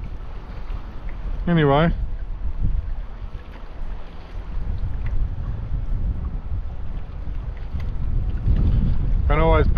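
Wind gusts buffet the microphone at a shallow fishing spot on the water, a loud rumbling roar that swells and eases, with a brief word spoken and a squeaky creak from the boat.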